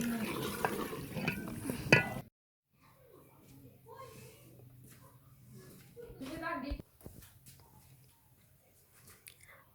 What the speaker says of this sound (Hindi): चिकन को यहाँ हमने तकरीबन 15 से 20 मिनट तक भूनना है